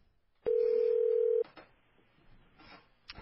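A single long, steady telephone dialing tone sounds for about a second, loud and clean, followed by quieter rustling and line noise with faint voices in the background.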